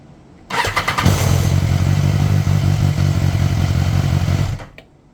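Motorcycle engine cranks and catches after being shifted into neutral, settling into a loud, steady idle with a low throbbing rumble for about four seconds before cutting off abruptly.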